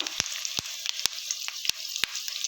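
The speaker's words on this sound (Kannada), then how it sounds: "ಮಟನ್ ಹಾಕೋಕ್ಕೆ ಮುಂಚೆ ಈರುಳ್ಳಿ ಎಲ್ಲ ಚೆನ್ನಾಗಿ ಫ್ರೈ ಆಗಬೇಕು." Onions and curry leaves frying in oil for mutton sukka make a bright, continuous crackling sizzle, cut by sharp, regular spoon taps and scrapes against the pan, close and clear with no voices.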